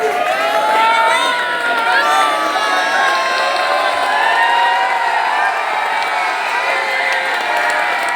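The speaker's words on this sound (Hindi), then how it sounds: "जोरदार तालियां।" A large crowd at a school Teachers Day celebration cheers and shouts loudly with scattered clapping, a dense, sustained roar of many voices nearby.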